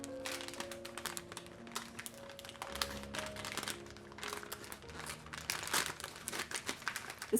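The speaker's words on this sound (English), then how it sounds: "This packaging is really fun to open." Crinkly packaging being unwrapped up close, dense crackling and rustling bursts over soft background music, growing busier toward the end.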